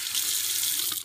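A bathroom sink tap runs steadily, a close and continuous hiss of water flowing into the basin with no talking over it.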